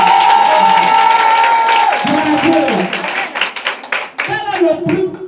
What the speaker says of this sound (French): Celui qui acclame plus fort sera plus béni que son frère.